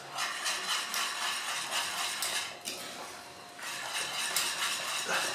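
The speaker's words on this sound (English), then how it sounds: "Let's give it another whisk." Oats porridge being whisked in a pot with cinnamon added, a busy steady scraping and clinking of the whisk against metal, close and continuous with brief pauses, no talking.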